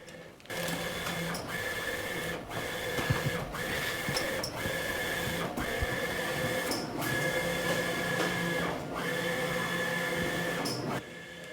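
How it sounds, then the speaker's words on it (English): A large printer runs steadily while printing lawn signs, a continuous mechanical whir and hum with a regular rhythmic clacking of passes, close and constant throughout. "More printing."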